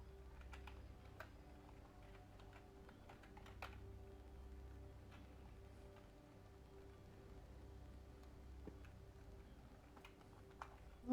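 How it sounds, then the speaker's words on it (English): Quiet typing on a computer keyboard, scattered soft key clicks in irregular bursts over a low steady hum, faint and close. "Oh, he typing."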